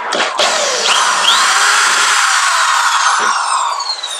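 A handheld power drill runs loud and steady for several seconds, close by, its pitch holding with small dips, used while fitting a bearing hinge on a Drum Workshop DW 9000 or DW 5000 Delta II drum pedal.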